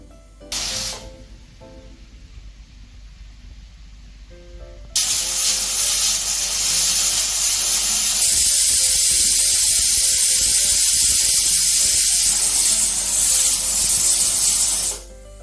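A pressure cooker on a stove, cooking sambar, lets out a loud, sustained hissing whistle of escaping steam that starts abruptly partway through and runs steadily for about ten seconds, after a short, quieter spurt of steam earlier.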